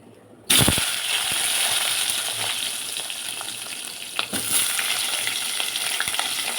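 Nigella seeds crackle and sizzle as they hit hot oil for tempering, a sudden loud burst of frying that settles into a steady sputtering hiss with scattered pops, briefly swelling again midway.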